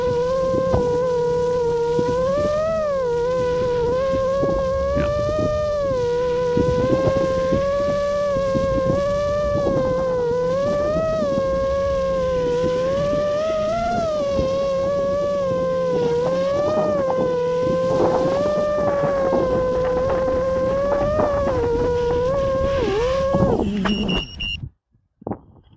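An iFlight BOB57 FPV drone's motors whine in a continuous high-pitched buzz that rises and falls with throttle changes throughout, then cuts out abruptly as it lands.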